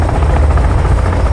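A helicopter in the survival video game Sons of the Forest thrums loud and close with a steady rotor chop and low engine drone, unbroken and with no voices over it.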